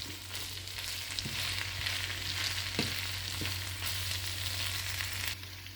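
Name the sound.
stirring minced beef frying in a pan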